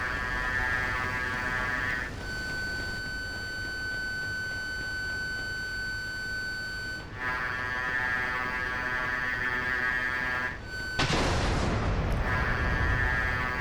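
A Linebacker air-defense vehicle in DCS World firing while it drives, over a steady engine drone with tonal warning beeps, punctuated near the end by a sudden loud burst of weapon fire.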